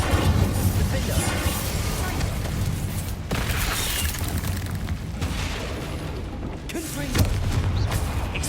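Spell blasts in Hogwarts Legacy boom and crackle almost continuously, loud and dense, with sharp cuts between effects and voiced incantations mixed in among the explosions.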